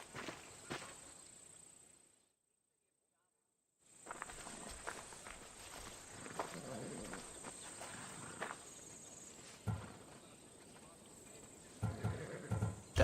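In the Assassin's Creed Odyssey game, horse hooves clip-clop in a steady walking rhythm against crickets and ambient insects, broken by a brief silent gap and accompanied by dialogue from the characters.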